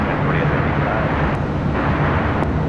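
An airliner takes off from runway 24 left at LAX, bound for Honolulu, giving a loud, steady broadband engine roar that fills the whole clip without breaks.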